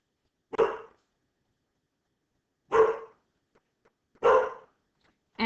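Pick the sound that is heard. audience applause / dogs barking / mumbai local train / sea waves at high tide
dogs barking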